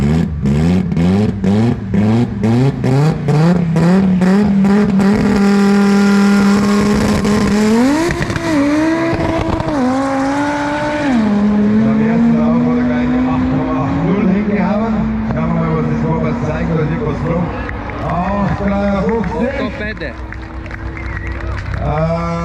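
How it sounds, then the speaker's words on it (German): A loud Audi TT engine revs and accelerates up close, its pitch climbing and dropping in steps as it pulls hard and keeps roaring. "seinem neuen Auto, Audi TT, der ist ein bisschen laut"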